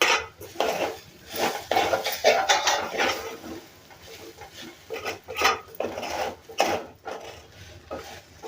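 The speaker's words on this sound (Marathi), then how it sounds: "हा किस आपल्याला चांगला दोन तीन मिनटं असं परतून घ्यायचं" Grated sweet potato is sautéed in a pan over low heat, a utensil repeatedly scraping and clattering against the metal in an uneven rhythm of stirring strokes, close and fairly loud.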